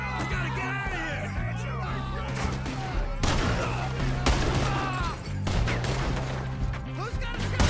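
Gunfire in the Red Dead Redemption 2 video game, a loud chaotic fusillade of repeated shots and crashes mixed with shouting voices and game music throughout.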